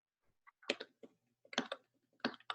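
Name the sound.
typing on a computer keyboard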